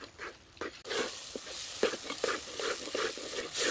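Green peas and spices frying in a pan while being stirred for a pea and mushroom curry, a soft sizzle broken by repeated scraping stirs in irregular rhythm, close but fairly quiet, no talking.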